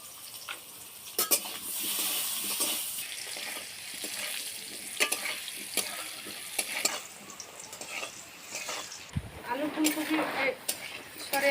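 Potatoes fry in oil in a pan with salt and turmeric, giving a steady, soft sizzle with intermittent stirring scrapes and clicks, fairly close and low in level.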